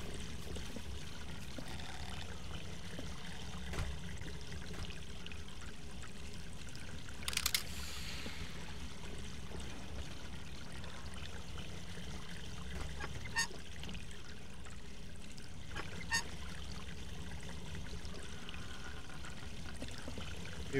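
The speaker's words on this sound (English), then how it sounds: "Water's running through it." Water runs steadily in Hello Neighbor, a faint continuous trickle and pour with a soft background hum and a few brief clicks on top.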